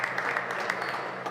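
Spectator applause at a squash match at the BDO Namibian Open, a dense, steady patter of clapping filling the short stretch with no talk over it.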